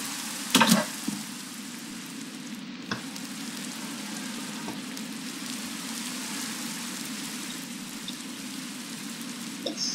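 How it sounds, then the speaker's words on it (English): Steady rain falling in Minecraft, a constant soft hiss with a few sharper clicks and taps near the start, heard alone without talking. "It's still raining?"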